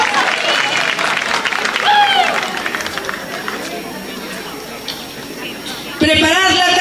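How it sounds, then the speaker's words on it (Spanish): Audience ovation at a patron saint festival in San Andrés Miraflores, a steady loud wash of clapping and crowd cheering with voices mixed in, ending with a sudden switch to louder sound in the final second. "Que se escuche la ovación para nuestros participantes."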